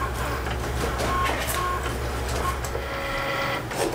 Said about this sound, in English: while my Cricut keeps cutting